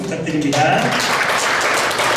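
Audience applause at a 2023 members' general assembly in Korea, a broad dense wash of clapping that swells after a brief spoken request and carries on steadily to the end.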